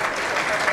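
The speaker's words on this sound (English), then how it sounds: "A big round of applause, ladies and gentlemen." A short burst of audience applause at a jewellery industry felicitation ceremony, steady crowd clapping heard briefly at moderate level.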